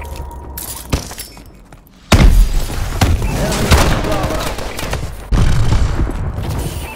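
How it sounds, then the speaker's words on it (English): Missile strikes explode in a Call of Duty Advanced Warfare multiplayer match, loud booming blasts and crashing debris arriving in two heavy waves after a quieter stretch with a few sharp thuds, with game voice callouts mixed in. "Enemy missile strikes incoming."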